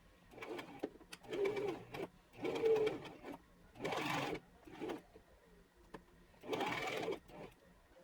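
A home sewing machine stitching a bias cut maxi dress skirt, running in short bursts of a second or so with quiet pauses between, fairly close and moderately loud.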